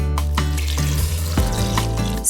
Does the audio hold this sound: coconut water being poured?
yes